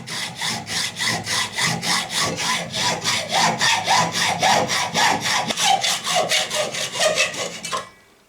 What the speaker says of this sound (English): Now I'm filing it so that when I screw it in, it goes into correct position.